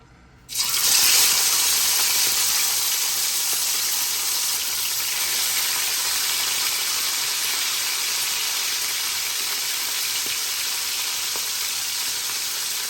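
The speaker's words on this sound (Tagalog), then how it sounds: "habang nagpiprito tayo" Loud, steady sizzling of fish frying in hot oil starts abruptly and continues as a dense crackling hiss.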